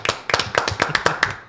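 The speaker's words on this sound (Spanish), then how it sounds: "Un aplauso." A small audience applauds to welcome guests: a short burst of sharp, fairly evenly spaced hand claps, close and distinct rather than a dense roar, with no talking.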